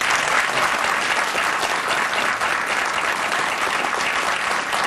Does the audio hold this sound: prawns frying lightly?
no